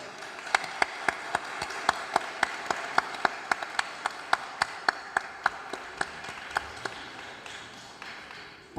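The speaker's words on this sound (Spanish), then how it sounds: "A ellos les pido un fuertísimo aplauso." At a book launch in Peru, a small audience applauds the coauthors with a thin, evenly spaced run of sharp claps at a brisk steady beat, moderately quiet and fading toward the end, without speech.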